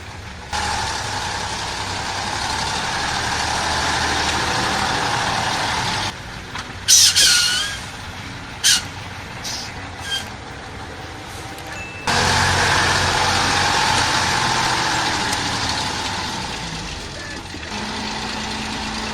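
A heavy tree-cutting machine grinds over rough terrain with a loud, steady engine rumble. Midway it briefly cuts out into short clanks and squeaks before the deep drone returns.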